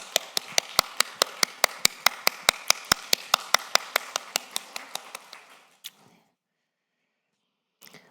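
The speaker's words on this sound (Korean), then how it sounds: "우리 한 해를 지켜주신 하나님께 감사의 박수 올려드리겠습니다" A church congregation claps in thanks, producing a run of crisp, evenly spaced claps that keep a steady beat, then thin out and stop, followed by a moment of quiet and a couple of faint taps.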